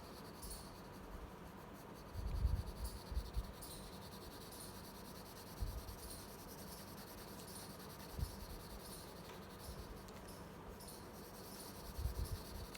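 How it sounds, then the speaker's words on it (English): Colour pencil strokes on textured paper, drawn diagonally with very light pressure for smooth lines; a faint, soft scratching that comes in brief, spaced bursts over a quiet background. "I am hardly putting any pressure onto the paper, and my lines are smooth."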